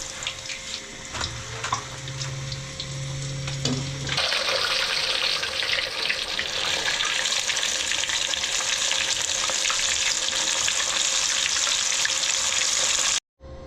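Fish frying a second time in oil over medium heat: a steady, loud sizzle that jumps up sharply partway through and holds as a dense crackling hiss, with a few clinks early on, then cuts off abruptly.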